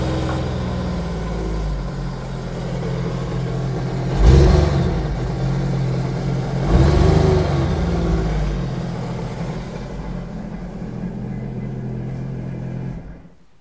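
A 2010–2015 Sea-Doo with iBR runs out of the water without antifreeze, its engine idling in a steady close rumble with two brief revs swelling louder before it shuts off.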